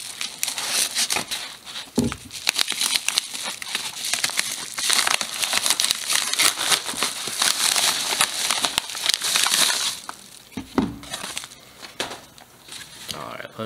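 A cardboard mailing box from Schrade holding a knife is torn open up close, with loud crinkling, crunching and ripping of packaging; a voice can be heard in places.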